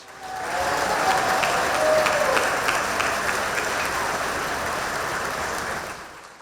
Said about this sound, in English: So please give Rachel an applause